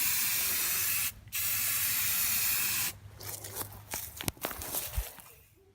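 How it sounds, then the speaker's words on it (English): Rust-Oleum Professional flat black spray paint hisses onto roof rack rails in two long, steady bursts with a short pause between. Footsteps and light rustling follow. "we're going to hit them with a quick coat of Rust-Oleum Professional"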